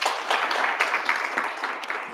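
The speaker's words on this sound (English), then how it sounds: "Ladies and gentlemen, another round of applause." An audience at a radio thought-leadership session applauds steadily, a dense, even wash of clapping that holds at a constant level for about two seconds with no voices over it.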